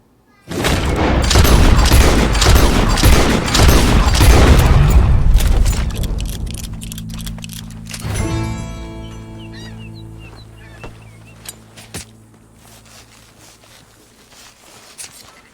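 Rapid bursts of gunfire in Red Dead Redemption 2, loud and dense for several seconds, then fading into sparse single shots and lingering game ambience.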